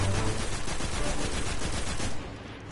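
Steady automatic gunfire from the video game Destiny rattles densely and loudly for about two seconds, then cuts off.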